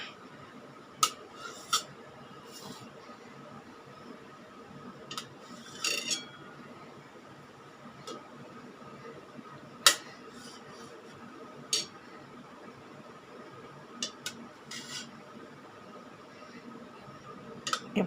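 A knife cuts boiled eggs into quarters, giving sparse, sharp clicks and taps of the blade spaced irregularly over a quiet, low background hum.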